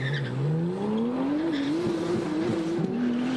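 Sports cars, a Corvette and a Porsche, race down a drag strip at an EDRA Nationals event, a loud sustained engine roar rising steadily in pitch as they accelerate, close and continuous without speech.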